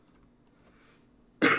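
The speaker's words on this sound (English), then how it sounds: "Oh, that cough." A single sharp cough from a person bursts out loudly at the very end, after a stretch of near silence.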